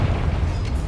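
Confringo spell explosion in the Hogwarts Legacy video game, a single deep booming blast with a rumbling low-end roll that fills the whole moment, with no voices.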